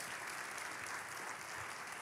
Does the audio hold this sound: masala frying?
no